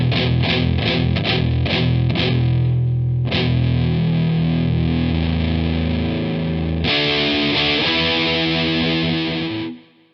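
Electric guitar played loud through a Positive Grid Spark amp with power tubes engaged, a run of rapid strummed chord stabs followed by sustained ringing chords, heavily driven and distorted, close and alone before fading out.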